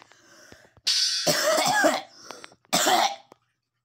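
A faint breathy lead-in, then two loud, harsh bursts of coughing close to the microphone, the first longer and raspy, the second shorter.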